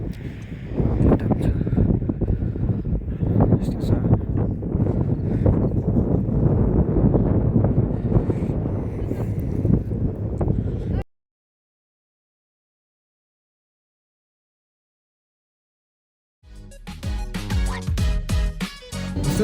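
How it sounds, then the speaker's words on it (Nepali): Strong wind in Paro, Bhutan rushes loudly and steadily into the microphone as broadband buffeting for about eleven seconds, then cuts to silence before a separate burst of sound returns near the end. "यहाँ चाहिँ हावा चलेर खतरा भइरहेछ"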